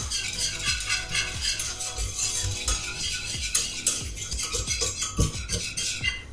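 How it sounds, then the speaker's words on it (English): A whisk clicks and scrapes quickly against a pan while stirring a flour and butter roux, giving a busy metallic rattle with irregular taps and a faint background sizzle. "I'm just going to keep whisking this until I can see the flour and butter mixture just starting to bubble a little."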